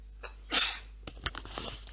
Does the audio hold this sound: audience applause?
no